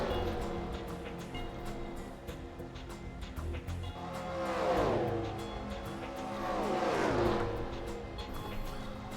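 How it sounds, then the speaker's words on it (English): Stock cars roar around Talladega in a racing video game, engines swelling and fading as two cars sweep past in quick succession over a continuous background of engine drone. "Outside of them is Bruce in the 23 JD Barnes car racing ahead there"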